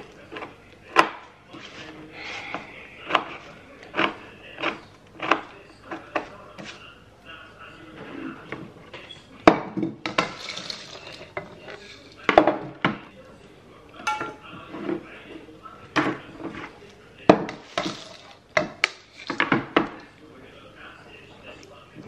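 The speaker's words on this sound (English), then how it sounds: "Just chopping these up." Food being chopped into bite-sized pieces on a board for a homemade ice cream cake, giving irregular knife taps close up, mixed with clinking dishes and kitchen handling noises under occasional talk.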